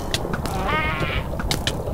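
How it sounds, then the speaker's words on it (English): A short, wavering bleat-like cat meow rises over busy Minecraft game noise, sounding on player kills, with a few sharp clicks and impacts around it. "Why are the cat noises when I kill someone?"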